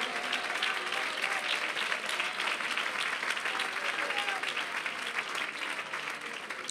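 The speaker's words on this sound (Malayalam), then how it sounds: "കൈയടിക്ക നിങ്ങൾ നന്നായി കരങ്ങളടിച്ചേ" A church congregation at a Malayalam Christian Sunday service claps hands steadily and loudly throughout, a dense continuous applause with crowd murmur.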